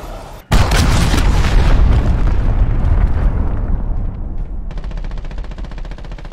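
Cruise missile explosion in Call of Duty: Modern Warfare, a sudden loud boom that rolls into a long rumbling roar and slowly fades under a lingering crackle.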